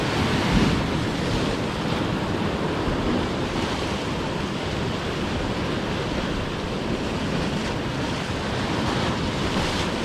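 Ocean waves wash continuously against a rocky seawall shore on a calm late-December morning, a steady broadband rush with soft surges and wind buffeting the microphone, no talking.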